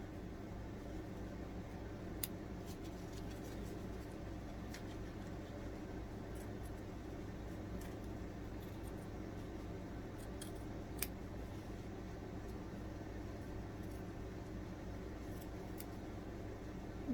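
Scissors cutting out fabric pattern pieces make faint, sparse snips over a quiet, steady background hum, with no talking.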